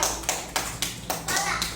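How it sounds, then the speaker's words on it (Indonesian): A classroom of students claps for group 4 in a short, even rhythm of about seven sharp claps, close and clear, with faint voices in the background. "Tepuk tangannya di mana tepuk tangannya?"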